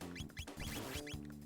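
Birds in the video game Chrono Trigger, a quiet run of short, repeated chirpy squawks and clucks over a steady music backdrop, coming in quick bursts.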